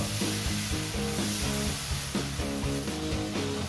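A beef stroganoff mixture is stirred in a sizzling pan, the spoon scraping in quick repeated strokes over a constant frying hiss, close and clear with no voices.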